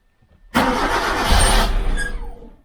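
A Kia Rio's starter cranks the engine in a loud, close burst lasting about two seconds, with a rough mechanical whir that fades out; a faint hum precedes it.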